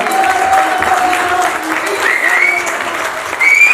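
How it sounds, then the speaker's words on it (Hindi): An audience at a stage event applauds loudly and steadily, the dense clapping filling the space for several seconds and swelling near the end, with faint voices mixed in. "शानू जी के जोरदार तालियां हो जाए."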